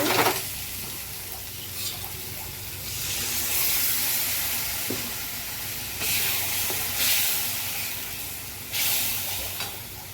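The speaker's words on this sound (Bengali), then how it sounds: "তেলের উপরে তেজপাতা জিরে দিয়েছি এখন পেঁয়াজ দেবো" Onion frying in oil with bay leaf and cumin for a mutton dish: a steady hiss and sizzle with surging bursts of steam, moderately loud and close, with no talking.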